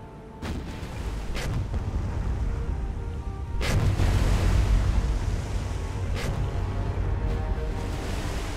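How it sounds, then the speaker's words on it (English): Warship naval guns fire in a War on the Sea battle, several booming shots spaced a few seconds apart over a constant rumble of sea and engine noise, with a heavier surge in the middle. "There comes the return fire."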